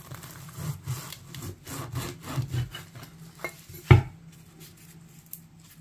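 A knife cuts through deep-fried prawn puffs made from kneaded dough, giving soft rhythmic scraping and rasping strokes against a board, faint and close, with one sharp knock of the blade near the middle and quieter cuts afterward.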